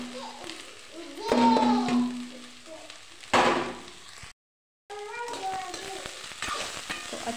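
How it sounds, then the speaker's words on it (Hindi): Potatoes and cabbage leaf greens fry and get stirred in a pan, a steady sizzle with scraping bursts, briefly cut to silence before the frying resumes, with faint voices in the background. "तो अच्छे से फ्राई करूंगी और अच्छे से इन्हें भूनना है"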